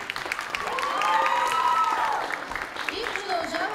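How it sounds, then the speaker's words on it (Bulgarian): A crowd at a game-summit cosplay stage applauds with whoops and whistles mixed in, while voices carry over the clapping throughout. "Аплодисменти отново за това невероятно трио"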